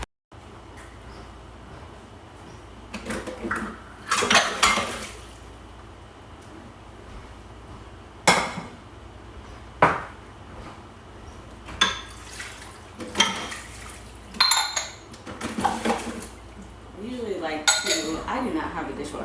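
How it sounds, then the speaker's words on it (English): Dishes washed by hand at a sink, ceramic bowls and plates clinking and knocking together in scattered bursts over a steady background hiss of running water, close and fairly loud. "I do not have a dishwasher, so I usually like to separate the dishes, put the bowls, the plates, and then dishes with the large dishes"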